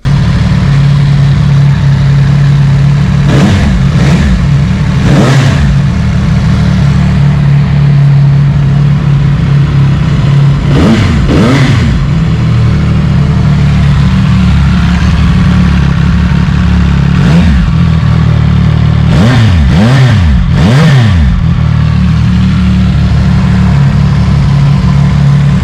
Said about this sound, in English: It's a quiet exhaust, relatively speaking.